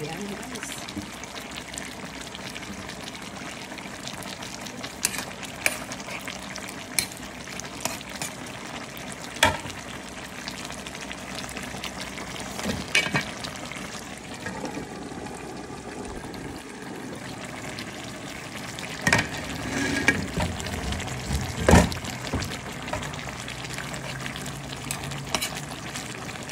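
Chili goes into a home-cooked lunch dish frying in a pan, giving a soft continuous sizzle with clinks of stirring and occasional taps throughout, under a speaking voice.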